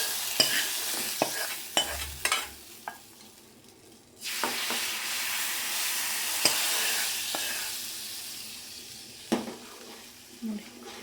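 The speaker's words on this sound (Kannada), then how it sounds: "ಈಗ ಇದಕ್ಕೆ ಒಗ್ಗರಣೆ ಎಲ್ಲ ಹಾಕ್ತೀನಿ" Hot oil sizzles as tempering is made for a Mangalore-style cucumber buttermilk sambar, a bright crackling hiss punctuated by sharp clinks of a spoon stirring against a metal pan.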